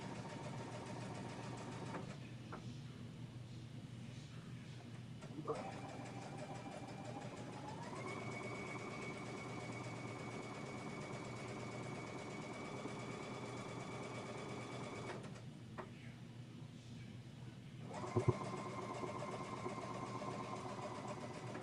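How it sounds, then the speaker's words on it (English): A sewing machine stitches down the border of a quilted summer banner with a steady, quiet mechanical hum. It pauses twice and then resumes running. "And I'm stitching down the right hand border."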